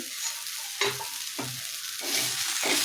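Mixed vegetables sautéing in a pan for sandwich filling, a continuous loud sizzle with several scraping stirs of a spoon at regular intervals, close and without talk.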